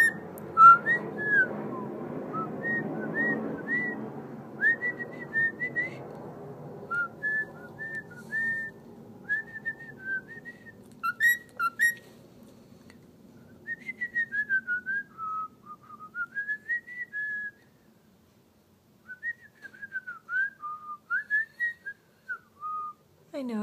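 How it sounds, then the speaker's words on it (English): A person whistling an uncertain tune indoors near a pet bird, thin wavering notes in short phrases with pauses, beginning over a soft murmur of talk and then mostly alone. "it's hard to figure out what I'm whistling"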